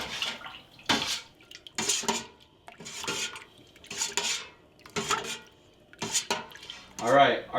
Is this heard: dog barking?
no